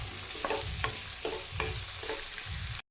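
Finely chopped onions frying for a tadka until golden brown, a close, steady sizzle punctuated by about five rhythmic stirring strokes before cutting off abruptly.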